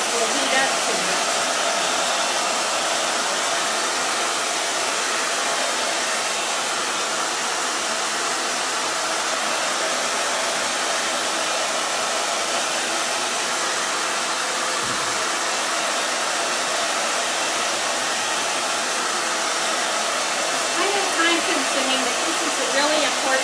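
Steady, loud airflow from a warm hair dryer drying chalk paste on a craft board, running unbroken with only slight wavering and a brief dip midway.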